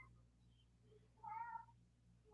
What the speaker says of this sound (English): For a split second when I heard your cat just meowing